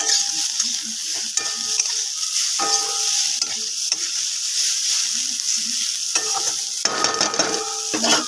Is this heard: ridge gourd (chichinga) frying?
yes